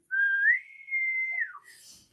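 A person whistling to imitate a bosun's pipe calling someone aboard: a single rising note that holds steady, then slides down and stops, close and clear with no talk.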